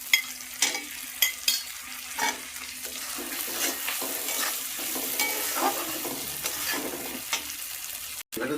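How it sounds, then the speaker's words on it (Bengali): Fried spices and chopped tomato for a spicy koi fish curry sizzle steadily in the pan, with repeated stirring scrapes that come as rhythmic bursts, close up and clear. "মশলা হালকা ভাজা হয়ে গেছে, এর সঙ্গে আমি দিচ্ছি টমেটো কুচি।"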